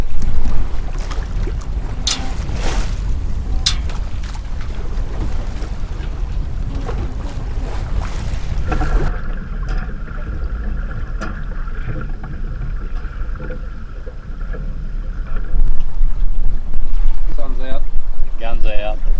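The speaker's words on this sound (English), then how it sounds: "Very relaxing sail on Corio Bay." A sailboat cruises on its head sail across Corio Bay, with steady wind buffeting and water rushing past the hull throughout, close and loud, and a faint high tone through the middle stretch.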